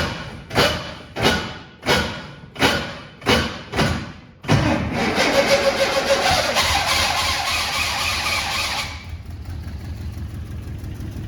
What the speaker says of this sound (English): I've been having problems with the starter motor because it's not engaging properly